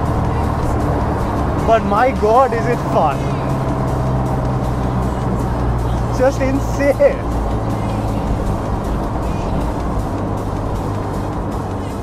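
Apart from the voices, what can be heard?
Toyota AE86 with SR20DET engine driving fast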